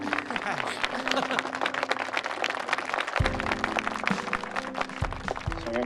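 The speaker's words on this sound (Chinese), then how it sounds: "让我们为这对新人鼓掌吧" An audience claps for a newly engaged couple at an engagement ceremony, dense continuous applause with a tonal music bed underneath that shifts partway through.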